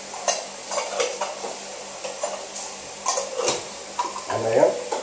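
Curd being mixed into rice and boiled egg for a Pomeranian's food, with a spoon repeatedly clinking and scraping against a bowl in an irregular rhythm, close and clear, and a few faint speech-like sounds between strokes.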